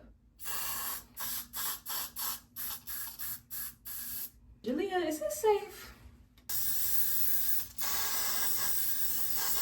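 Short bursts of hair holding spray hiss in quick succession, then a long continuous spray, with a brief spoken question in the middle.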